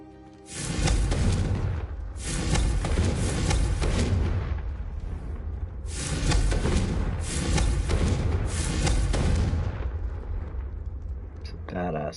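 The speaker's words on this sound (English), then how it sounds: "It's a badass fire spell." Three loud fiery blasts from the Confringo spell boom in Hogwarts Legacy, each a heavy whooshing burst lasting a couple of seconds, with a voice talking in the background.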